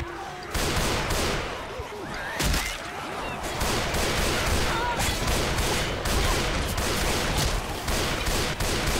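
Gunfire and melee slashing in the Left 4 Dead 2 video game, a dense continuous barrage of shots and impacts that fills the whole span, loud and close, with voices mixed in.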